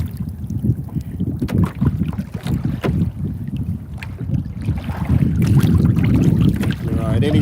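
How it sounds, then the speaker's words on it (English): Wind buffets the microphone on a fishing boat out on the water, rumbling in uneven gusts that grow stronger and more sustained toward the end. "But that wind is picking up."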